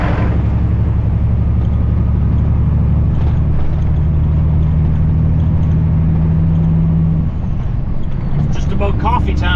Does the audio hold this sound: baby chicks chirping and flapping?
no